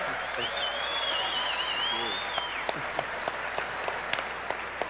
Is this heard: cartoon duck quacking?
no